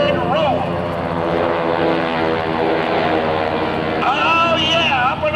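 Red Baron Squadron propeller airshow planes fly a double cascade roll, their engines droning loudly and continuously with rising and falling pitch sweeps as they pass, while a voice talks over the noise.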